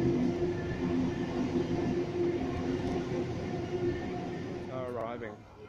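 A Waratah electric train in Sydney rumbles past at a steady, moderate pace, its low mechanical hum continuous until it fades near the end, with a voice talking over it.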